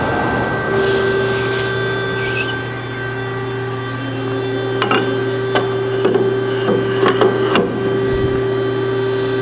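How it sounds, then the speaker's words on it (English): A JMT 120-ton ironworker, model IW110 BTD, punches a 1-inch hole through 3/4-inch mild steel plate, with a series of sharp metallic knocks and clanks over a steady machine hum, fairly loud and close. "We're going to punch a 1-inch hole through 3/4-inch mild steel plate."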